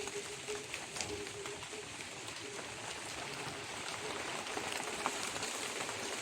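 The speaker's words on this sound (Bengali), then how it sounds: "গাছের পানি দেখছেন কিভাবে পড়তেছে" Rainwater dripping and pattering from trees after a rain shower, a steady dense patter of drops close by with no voices.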